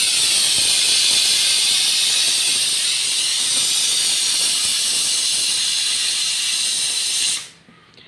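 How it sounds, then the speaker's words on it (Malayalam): A pressure cooker on the stove cooking sweet potatoes lets out its first whistle, a loud, steady, high-pitched steam shriek lasting about seven seconds before it cuts off abruptly. "ഫസ്റ്റ് വിസിലായി"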